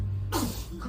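A single sudden sneeze-like burst of breath cuts in about a third of the way through, loud and close against a steady low hum, followed by faint voice-like tones.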